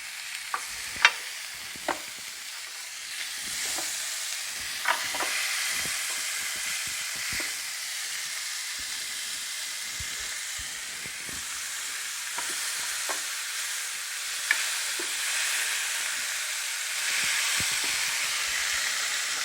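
Steak searing in a Ninja Foodi Grill, a constant loud sizzle and hiss with scattered small pops and crackles throughout, no voices.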